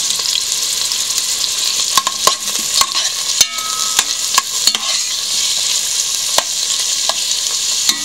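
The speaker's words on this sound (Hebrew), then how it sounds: "השמן שלי חם, אני פשוט מוסיפה את הבצלים." Diced onions sizzle in hot oil in a pan, a steady bright frying hiss with repeated clicks and scrapes of a utensil stirring them, close and loud with no talking.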